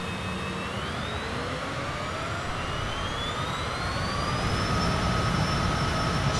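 Jet engines on a Citation CJ4 spool up as power increases, a steady roar with whining tones that rise in pitch, heard from inside the aircraft with no talking.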